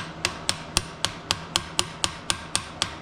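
A part is hammered into a GMT400 Chevy/GMC truck using a socket as a driver, giving about eleven evenly spaced metallic hammer strikes in a steady rhythm, close and sharp.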